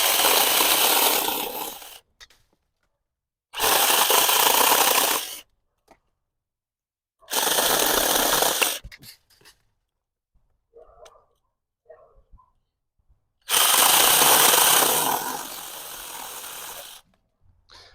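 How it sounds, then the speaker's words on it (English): A ZeekSaw cordless saw cuts through a piece of wood about an inch thick, in four loud, harsh bursts of roughly two seconds each with near silence between them. "it cut real easily through this maybe 1-inch piece of wood here"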